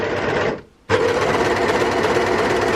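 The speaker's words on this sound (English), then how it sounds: "Right now mom is sewing." A sewing machine stitches a child's bunad vest in a loud, steady close-up whir that breaks off for a moment and then resumes at the same even pace.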